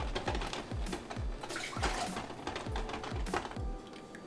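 Excess water is poured out of an overfilled cooking pot, giving a close, continuous gurgling splash with a fast, regular glugging pulse throughout.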